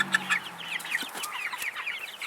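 Chickens cluck in a farmyard flock, including a gold-laced rooster, with several short, fairly close clucks and chirps overlapping steadily throughout.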